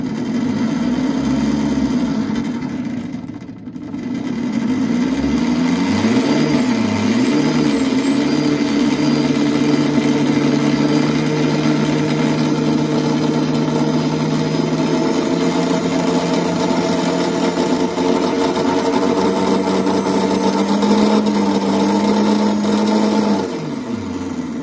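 A Bafang BBSHD mid-drive e-bike motor on a 48-72V battery spins up under throttle to a steady high-pitched whine with a droning hum, held loud and close for about twenty seconds after a brief dip.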